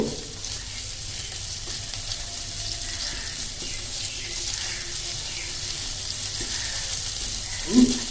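Chopped ginger fries in a pan for a green pea filling, giving a steady, even sizzle throughout, with a faint scrape of stirring near the end.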